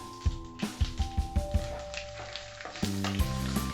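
Cashews, peanuts and raisins frying in oil in a pan while wheat upma is made: a soft sizzle with quick tapping stir sounds, heard under background music.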